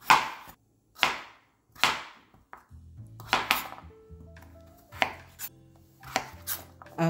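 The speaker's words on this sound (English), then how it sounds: "let's go ahead and cut these into the size pieces that I want, which is approximately, they're going to be about 1 inch." A knife chopping roasted butternut squash into 1-inch pieces on a cutting board, crisp, close strikes in a slow, steady rhythm about once a second, with faint kitchen clinks between.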